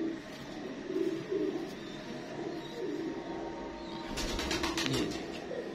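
Soft, repeated cooing from breeder pigeons in a loft, low rolling calls under a background hum, with a brief scratchy flutter near the end.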